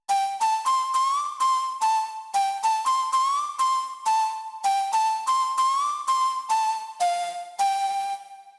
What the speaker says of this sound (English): Lead Forest Flute is a flute made with a wavetable and it sounds like this.